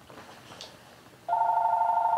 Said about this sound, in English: Now the fucking phone's ringing.